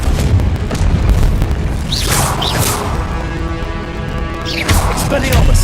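A Confringo spell detonates in Hogwarts Legacy with a loud booming blast and crackling debris, set amid dense battle noise and shouted spell incantations.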